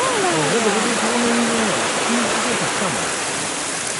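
A small waterfall fed by cold spring water pours steadily in a rocky stream where people draw water, a broad continuous rush close by with voices talking over it.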